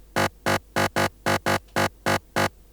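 An aggressive synth with a mono layer and a second, stereo-widened layer plays a rapid, slightly uneven run of about ten short, loud, buzzy stabs with brief gaps between hits.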